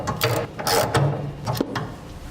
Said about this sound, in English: and tighten it down with the small nut.